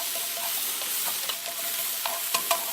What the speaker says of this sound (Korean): 썰었던 고기이기 때문에 젓가락으로 이렇게 펼쳐가면서 잘 익도록 볶아줍니다